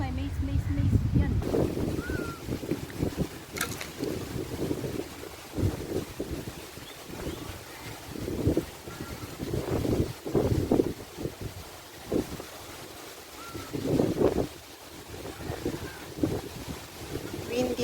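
Strong wind buffets the microphone on the beach at Pasir Ris Park, a steady low roar with gusts swelling every few seconds, close and fairly loud throughout, with faint voices in places.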